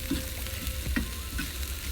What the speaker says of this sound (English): I'm gonna cook the onions inside of the olive oil.